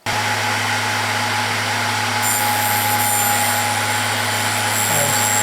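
A Vevor drill grinder thins the web of a drill bit, its motor a loud, steady whine that runs the whole time, with a brighter grinding hiss joining as the wheel meets the bit.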